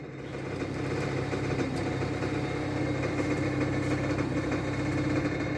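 A small block LA engine idles steadily nearby in a garage, a constant low mechanical rumble that fades in at the start and holds even, with no talking.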